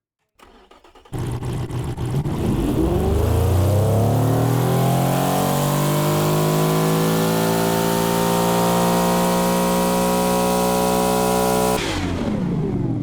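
A video game car engine, a 1980s GT car, starts, then revs up and holds a loud, steady roar with rising tone for several seconds before cutting off abruptly.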